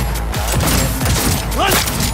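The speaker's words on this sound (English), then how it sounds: "Open fire!" Gunfire in the video game Cyberpunk 2077 rattles as a dense, loud fusillade through a short burst, with booming low thuds and a faint voice-like sweep near the end.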